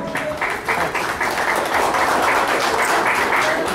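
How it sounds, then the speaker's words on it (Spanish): A ceremony audience claps as a mayor honours public cleaning staff, the applause dense, loud and sustained throughout without a break. "Vengan las palmas, por favor."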